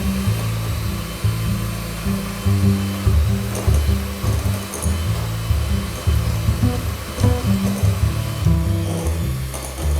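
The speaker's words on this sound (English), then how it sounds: "get a big bowl and beat butter and sugar until creamy and pale in color" An electric mixer beats butter and sugar in a big bowl for cake batter, giving a steady, loud motor drone with a slightly pulsing churn throughout and no talking.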